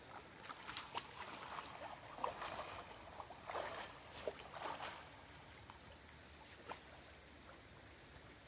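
Gold pan contents are rinsed in water outdoors. Soft, quiet sloshing and trickling come in uneven swirls and splashes over a faint background hiss.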